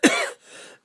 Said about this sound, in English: See, I'm coughing right now, and I'm going to smoke a cigar, and I'll stop coughing.